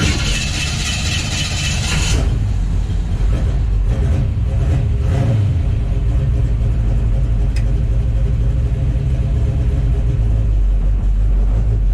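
A 1951 Henry J car engine, its timing and carburetor just adjusted, cranks and catches, then runs with a loud, steady, rough rumble close by for the rest of the clip.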